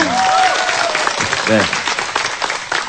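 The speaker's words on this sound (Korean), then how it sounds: "박수 한번 주십시오" Audience at a youth talk show event breaking into applause, loud continuous clapping with a host's voice talking over it.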